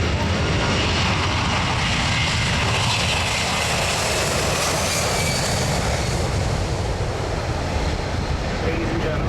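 A Jetstar airliner flying past at the Australian International Air Show, a steady, loud broadband engine roar that holds constant throughout without clear rise or fade.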